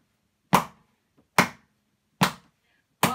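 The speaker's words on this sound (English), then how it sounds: "And we could clap at the same time." Four single hand claps struck slowly to a steady beat, evenly spaced about a second apart, close and crisp with silence between them.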